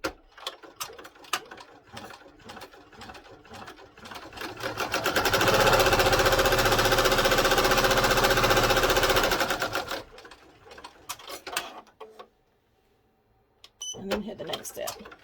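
A sewing machine stitches down an elastic-strapped fabric composition notebook cover in one steady, loud burst of about five seconds. Tapping and handling noises come before and after, with a quiet pause near the end.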